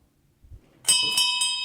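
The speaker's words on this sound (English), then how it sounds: "Oh, and that was the bell for last call." A bell rings for last call, a bright sustained ring that begins abruptly after a soft thump and continues with a couple of renewed strikes, close and clear.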